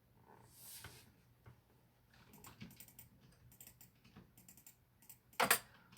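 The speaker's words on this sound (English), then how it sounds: "sorry if you hear clicking in the background" A computer keyboard and mouse used to play Minecraft on an Xbox give scattered soft keystrokes and clicks, faint and close, with a louder burst of clatter near the end.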